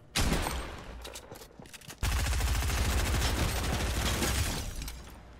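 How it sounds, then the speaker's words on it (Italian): Gunfire in the video game Fortnite: a burst of close shots, a brief lull, then a sustained rapid automatic volley, loud and dense, tapering toward the end. "Si sparano da te, eh."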